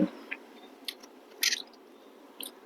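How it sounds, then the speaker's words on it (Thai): Biting into a sweet water drop mochi with brown sugar and bean flavour, heard as a few soft, wet, close squishy bites and chewing sounds separated by quiet gaps, with no talking. "เดี๋ยวเราจะกินคำเยียวใหญ่ๆเลย"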